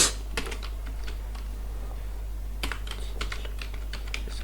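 Fingers type on a computer keyboard in a series of quick key clicks, with a pause in the middle before another burst of typing, close and fairly quiet over a low steady hum.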